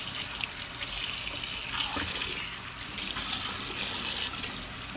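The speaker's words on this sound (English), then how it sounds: "Wash the fish so the fish is not stinky and fishy." Tap water runs steadily while a whole red snapper is washed in a sink, a continuous close gushing and splashing with slight changes as the fish is handled.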